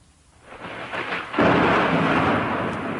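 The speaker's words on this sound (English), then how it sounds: "There's some thunder now. There's a storm coming" Thunder from an approaching storm rumbles in, building from a low distant roll into a loud, broad sustained crash that lingers to the end.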